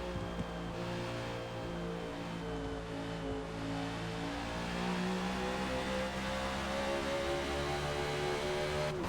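A NASCAR race car engine in Forza Motorsport at Road America, heard as a steady, fairly quiet engine whine with shifting harmonic tones as the car slows into a corner, with no voices.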